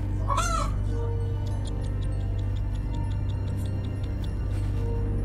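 A rooster crows briefly at the start, followed by soft clucking and chirps from chickens over a constant low engine-like hum.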